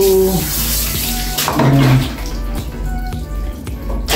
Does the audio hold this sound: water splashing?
yes